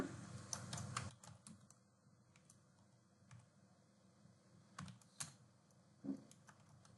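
Fast typing on a computer keyboard, entering text in Google Slides, with quick bursts of clicks separated by short pauses and a few louder key strikes, close and fairly quiet.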